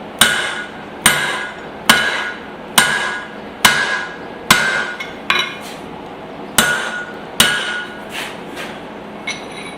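A hammer strikes hot steel on an anvil while a hatchet head is forged and tapered, ten evenly spaced ringing blows, loud and close, each with a brief metallic ring and no talk.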